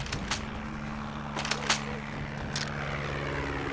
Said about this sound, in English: Follow that helicopter.